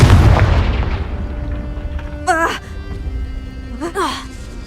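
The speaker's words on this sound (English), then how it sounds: "Confringo!" A Confringo spell explosion in a Harry Potter video game, a loud booming blast that fades into a long ringing tail, with two short voiced cries or gasps later on.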